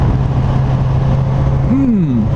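A 2019 Suzuki GSX-S 1000F motorcycle pulling hard in third gear, its engine drone loud and steady with a rising-then-falling pitch sweep near the end, over heavy wind rush.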